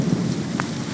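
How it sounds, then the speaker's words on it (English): Steady rain falling in Piaxtla, Puebla, a dense continuous hiss with a low rumble beneath, fairly close and even throughout, with no voices. "Beautiful. Beautiful rain."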